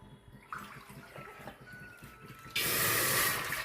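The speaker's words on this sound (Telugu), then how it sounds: "ముందుగా వాటర్ అయితే పోసుకుందామండి" Water is poured from a bowl into a pot, a sudden loud splashing rush near the end after a few seconds of quieter handling sounds.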